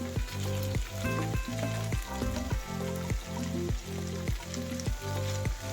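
Bean sprouts are tossed into a hot pan with shrimp and chicken strips, giving a steady sizzle broken by rhythmic scraping strokes of a spatula about twice a second, close and moderately loud.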